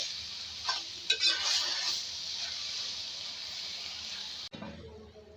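Okra and onion cook over a high flame with a bright, hissing sizzle and a few stirring scrapes, fairly quiet and close, ending abruptly after a short stretch without speech.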